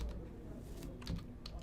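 Light keystrokes on a computer keyboard tap in a quick, uneven run, faint and close, with no voice over them.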